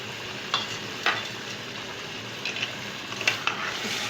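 Potatoes fry in a pan after lemon juice and tikka masala go in, giving a steady close sizzle broken by a few sharp scraping clinks of a spoon as they are stirred, with no voices.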